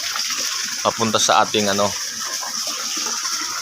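A water pump pushes water through a pipe into a catfish pond biofilter, making a steady, close rushing gush that runs throughout, with someone speaking briefly over it.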